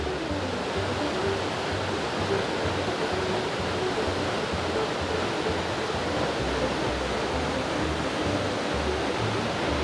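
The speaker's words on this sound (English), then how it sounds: "make your way around the base of the waterfall" Lost Creek Falls in White County, Tennessee pours in a steady, loud, broadband roar of falling water that stays constant and close throughout, with no break in the rushing sound.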